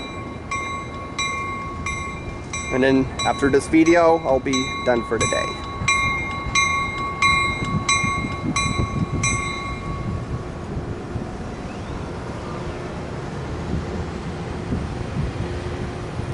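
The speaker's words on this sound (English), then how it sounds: "Alright guys, ACE train number 4 is leaving now." An ACE passenger train departs Santa Clara station with loud, repeated chord horn blasts over a deep rolling rumble of wheels and engine. Someone speaks briefly over the noise.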